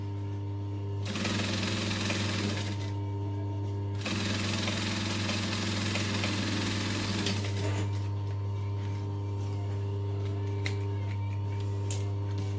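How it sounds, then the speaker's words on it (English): A sewing machine chain stitching fabric pieces for a backpack runs in two steady, close mechanical whirring bursts with a short pause between, over a constant low electrical hum; no one speaks. "I'm going to do what's called chain stitching. So I'm just going to stick the next one straight under and stitch along"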